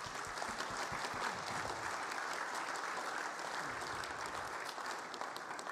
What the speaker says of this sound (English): If everybody, please give them a round of applause.